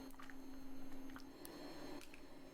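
Hot forged tongs made from 3/8-inch flat stock are plunged into water and kept moving, giving a steady close hiss and sizzle with faint bubbling crackles.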